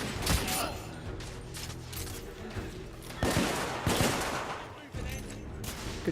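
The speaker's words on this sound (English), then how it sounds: "Damn, I'm taking fire." Gunfire from The Order: 1886, with dense bursts of rapid shots and loud repeated cracks over continuous battle noise, some heavier thumps mixed in.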